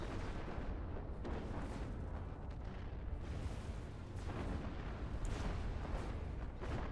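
Sheller artillery units in the real-time strategy game Planetary Annihilation fire over mountain walls, giving a dense, continuous barrage of booming blasts and crackling impacts that stays loud throughout with no talk.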